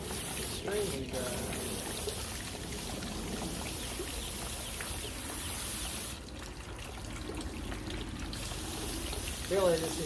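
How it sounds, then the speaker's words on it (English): A garden hose runs at full blast over a very dry flowerbed freshly mulched for coleus plants, giving a continuous close hiss and spatter of water with a few faint bumps. "this hose doesn't know any speed but full blast"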